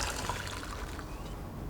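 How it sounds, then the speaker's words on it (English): Dissolved-sugar pickling liquid is poured into a measuring jug in a farm kitchen, a short soft trickle and splash heard close and quiet. "I'm going to pour this back into my measuring jug"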